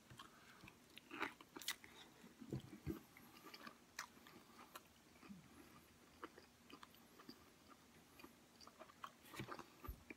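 Someone biting into and chewing smoked end ribs coated in a spicy rub, close wet smacking and crunchy bites in irregular bursts, quiet and alone with no talk.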